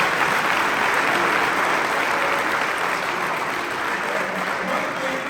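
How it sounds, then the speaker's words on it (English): Audience applause at an MLK Day 2023 panel discussion at Capital University: steady, dense clapping from a crowd that stays loud and even for the whole stretch. "So I wanted to you guys to give him another round of applause for the success."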